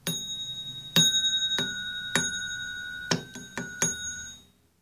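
A voice imitates an old vibrating doorbell with a series of sharp rings, each ring holding a steady tone before the next strike; about eight strikes in irregular rhythm, fairly close and moderately loud, alone.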